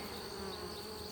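Honey bees buzz inside a hive super, a soft continuous drone heard close and steady for a brief moment.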